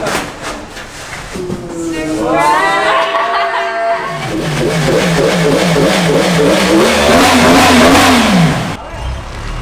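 A 2023 Yamaha R1M sport motorcycle engine revs hard and close, its pitch climbing through several sustained throttle blips before dropping back, with a brief idle at the start.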